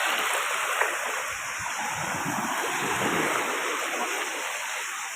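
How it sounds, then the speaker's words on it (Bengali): Waves wash steadily onto a beach in Brunei, a continuous broad roar of surf that stays loud and even throughout with no voices. "ঢেউটা অনেক ভালো লাগছে"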